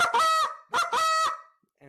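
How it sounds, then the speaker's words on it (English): A goose call blown by hand in a cluck-and-moan sequence: three sharp, close honks in a quick run, the last drawn out longer, then silence. "So an cluck O moan, it sounds something like"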